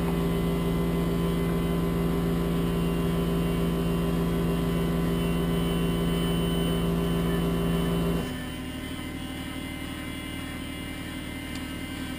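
A Huztl MS 660 chainsaw engine runs steadily at a high, buzzing idle, loud and close, then drops to a lower, rougher note near the end with no talking.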